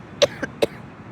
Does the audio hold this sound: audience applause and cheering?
no